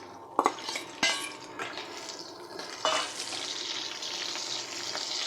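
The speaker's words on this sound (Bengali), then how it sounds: "পেঁয়াজগুলো ভাজা হয়ে গেলে" Onions and chillies frying in a pan for a dried-fish and taro-stolon curry, a steady broadband sizzle with a few sharp clacks of a utensil against the pan, no voices.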